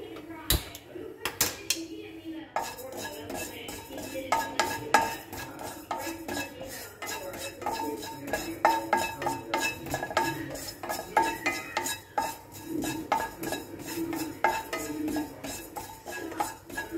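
A tablespoon of cumin seeds dry-roasting in a pan is stirred with repeated metal scrapes and clinks, close and uneven, with a voice speaking over it.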